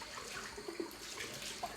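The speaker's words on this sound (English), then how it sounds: "with my brush, I'm rinsing it out with cold water" Cold water running from a bathroom tap while a shaving brush is rinsed out during a safety-razor shave at home in Hertfordshire, England, where the water is hard; a brief, steady splashing flow with small gurgles, no voices.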